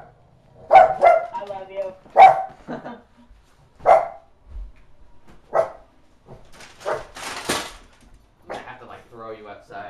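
A bulldog in the GTA 5 video game barks in short repeated bursts across the scene, loud and close, alternating with someone talking over the game.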